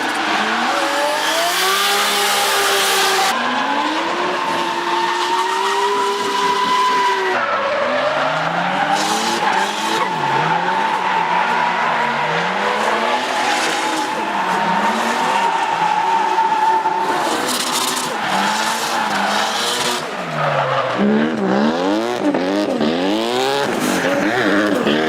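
A drift car with an RB20DET engine slides through corners, tires squealing loudly and continuously over a revving, rising and falling engine note for the whole stretch.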